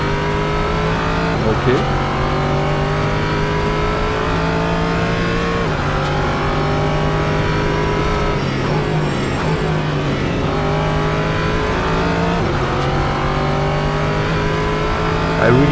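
An LMP3 prototype race car engine in the Assetto Corsa racing game drones loud and steady, its pitch rising and dropping through gear changes as it accelerates, with brief talk over it.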